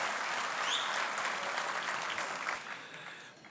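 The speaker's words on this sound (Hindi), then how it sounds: "सैक्सोफोन के लिए सुरेश जी के लिए ज़ोरदार तालियां आप सबकी" Applause for saxophonist Suresh at a live tribute concert by a musical group, a crowd clapping steadily at moderate distance before gradually fading toward the end.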